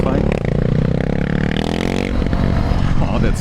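A Ducati Hypermotard fitted with a Termignoni exhaust roars loud and close throughout, a dense sustained engine note that rises as it revs, with rider chatter and wind mixed underneath.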